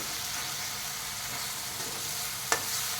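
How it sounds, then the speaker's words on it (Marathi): A tomato mixture fries in an oil tempering until the oil separates, making a steady low sizzle with faint stirring and one brief sharp clink of a utensil near the end. "टोमॅटोचं मिश्रणसुद्धा फोडणीमध्ये आता चांगलं परतलं गेलं आहे आणि जी फोडणी आहे ती आता तेल सोडू लागली आहे"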